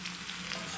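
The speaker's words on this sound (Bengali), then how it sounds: "এখানে ফুলকপি আর আলু ভালোভাবে ভাজা হয়ে গেছে" Cauliflower and potato pieces fry in hot oil in a pan, giving off a brief, steady sizzle heard close up with no voices.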